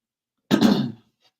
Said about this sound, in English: No, I'm clearing my throat as I talk.